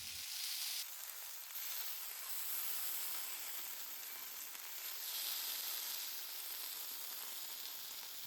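Yakitori chicken skewers sizzle while browning over the heat, a steady close hiss of frying fat with no voices, holding even throughout with slight swells.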